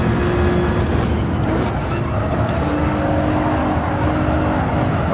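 A race car lapping a circuit, its engine roaring steadily and loudly from close by for the whole stretch, with no break in the sound.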